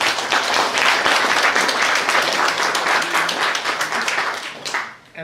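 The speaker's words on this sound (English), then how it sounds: "can we have a round of applause for all the volunteers?" Lively applause for volunteers at a meet and greet in a buffet restaurant, a close, dense burst of many hands clapping that holds strong for several seconds before quickly dying away.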